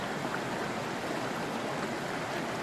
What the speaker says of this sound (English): just the liquid form in that river behind me